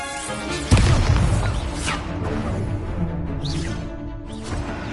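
Confringo fire spell blasts in Hogwarts Legacy: a sharp, loud explosive boom followed by crackling, rumbling bursts and whooshes of spell effects in a busy duel.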